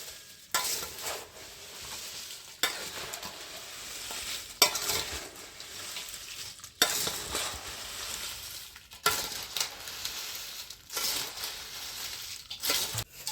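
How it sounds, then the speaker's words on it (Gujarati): Puffed rice chevdo tossed with spices using two spatulas, repeated bursts of rustling, scraping and crunching in a loose rhythm, close by with no voices. "તો હવે આપણે મિક્સ કરી દેવું 2 તવીથાથી આવી રીતના."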